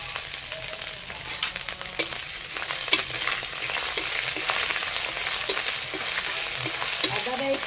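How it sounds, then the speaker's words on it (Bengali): Grated ginger fries in hot oil in a pan, giving a steady, close sizzle with occasional stirring scrapes and small crackles throughout. "আদাটা একটু লাল লাল ভেজে নেব।"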